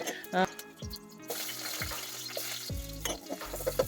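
Mustard seeds, cumin and crushed garlic sizzle in hot oil for a South Indian tempering, a steady close frying hiss with a few stirring clinks, heard alone.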